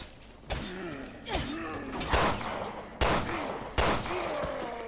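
Shotgun blasts in Resident Evil Revelations 2, four or five sharp booming shots at irregular intervals, each trailing into a short decay, with a low groaning creature sound and faint game noise between them.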